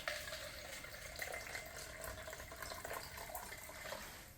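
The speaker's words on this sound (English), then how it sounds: "I've got sparkling water there, okay, and the sparkling water needs to be really cold." Cold sparkling water pours steadily into a container for tempura batter, a continuous close fizzing, splashing stream at low volume with no talking.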